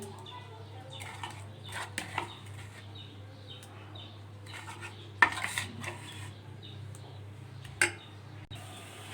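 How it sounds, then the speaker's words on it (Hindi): Yogurt and ground cream being stirred into an Afghani curry in a pot. A spoon gives scattered clinks and scrapes against the metal, with a few sharper knocks over a low, steady background hum. "अब वो भी ऐड कर देंगे। और अच्छी तरह से इसको मिक्स करेंगे।"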